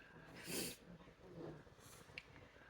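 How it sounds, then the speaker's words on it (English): Two or three close, wet nasal sniffs spaced about a second apart, soft and breathy, with no other sound around them. "Oh, I'm sorry that I'm sniffling."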